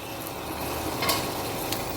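Potato curry stirred in a pan on the stove, a steady close sizzle with light scraping of the spoon and a couple of brief clinks.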